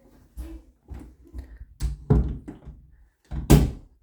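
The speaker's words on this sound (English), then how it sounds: "I just shut the door." A door swung shut indoors, sounding as a few soft knocks and shuffles followed by one loud, close thunk near the end, with no talking.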